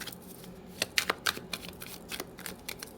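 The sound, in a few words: shuffling tarot cards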